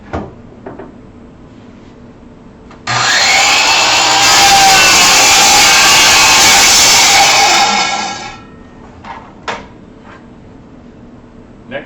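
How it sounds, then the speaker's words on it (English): A miter saw rips through a wooden board in one rough cut: motor spins up sharply, a loud whining cut lasts about five seconds, then it winds down, with light knocks and handling clicks before and after. "This is just a rough cut, so we can slide our board up to the mark and make the cut"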